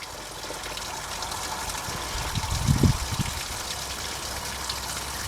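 Water flushes out of the engine water jackets during a Tahoe water pump replacement, a soft continuous trickle with a brief louder gush near the middle.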